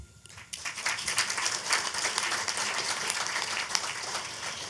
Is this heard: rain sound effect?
no